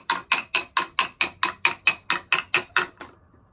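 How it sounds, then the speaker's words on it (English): Megado Dobby 2.0 loom hooks engaging one after another during hardware testing, about thirteen sharp mechanical clacks in an even quick rhythm, close and clear, then stopping. "You see the Dobby hooks push out one by one."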